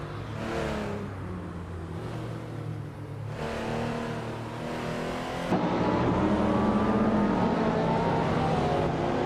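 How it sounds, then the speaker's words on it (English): A 2020 Toyota Supra GR engine revs hard during a video game race, its pitch climbing through the gears in steady, loud, close runs with shifts between them and no talk. "Gamusu is driving a 2020 Toyota Supra GR, known for its agility and sporty design"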